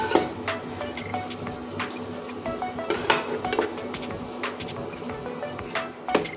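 Chicken being slowly stir-fried for a long time in a pan on a home kitchen stove for a mashed chicken dish, with a steady low sizzle under repeated clinks and scrapes of a spoon against the pan.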